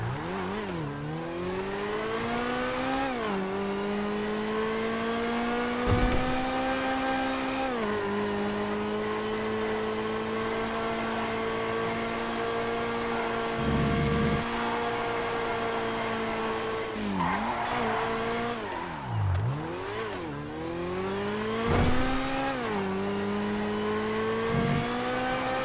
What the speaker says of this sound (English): Sometimes the old cars are the best ones to get in GTA 5 Online. This is the Entity XF. Let's just try this thing out.